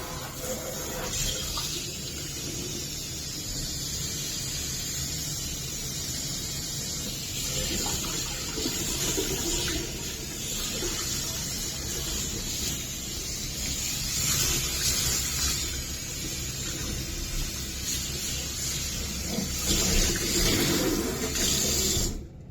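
Tap water runs steadily over a surface to rinse off Pink Stuff cleaning paste, a continuous rushing splash with shifting intensity as the flow hits the surface, no talk.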